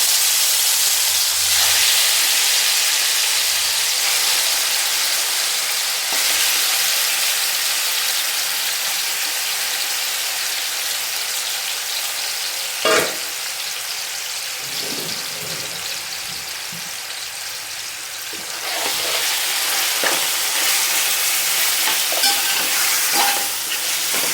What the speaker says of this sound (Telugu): ఇప్పుడు ఈ నూనెలోనే మనం ఈ మటన్ని ఫ్రై చేసేసుకుందాం